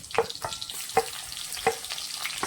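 Chopped onion fries in hot oil with a cumin tempering, crackling and sputtering in quick bursts while a spatula stirs it close by.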